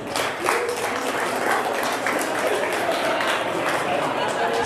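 Scattered applause and cheering from a comedy club audience at an 18+ stand-up show, a moderate, mixed wash of claps with some crowd voices underneath for a few seconds.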